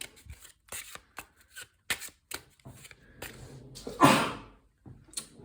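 Tiny Epic Defenders boss cards being shuffled by hand, a run of quick papery riffles and taps with a louder burst of riffling near the end, close and alone with no talk.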